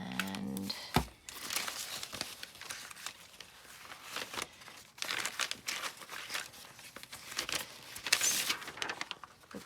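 Paper being handled, folded and crinkled while lined sheets are fitted to small journal flippy pads, close and fairly quiet, with repeated rustles and soft crunches throughout.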